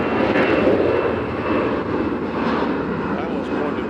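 A Delta passenger jet at Nashville International Airport, its engines giving a loud, steady roar and whine that holds at a constant level throughout.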